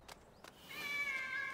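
A cat meows in the Demon Slayer anime, a single drawn-out, fairly faint cry after a couple of soft knocks, with no speech.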